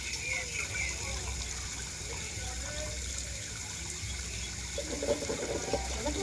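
Tap water running steadily during a long hair wash, a constant close hiss of flowing water that fills the whole stretch, with faint background sounds.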